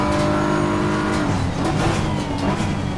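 Nissan GT-R, the Godzilla, roaring steadily in the Assetto Corsa Competizione racing game, a loud continuous engine note with gear-change pitch shifts and no talk over it.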